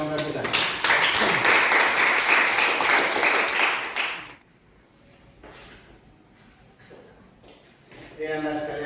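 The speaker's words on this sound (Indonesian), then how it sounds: "tepuk tangan untuk yang bersangkutan" A class applauds a student's presentation with a burst of close clapping for about four seconds before it stops abruptly, leaving quiet room sounds and voices talking; a few scattered sounds follow.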